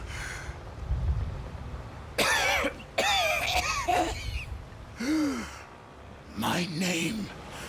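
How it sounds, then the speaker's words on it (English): A dry, rasping cough from a male character in the video game Pathfinder: Wrath of the Righteous, sounding in harsh bursts amid breathy vocal sounds and gasps, close and fairly loud. "A dry, rasping cough bursts from his throat."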